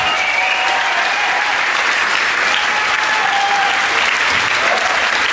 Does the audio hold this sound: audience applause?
yes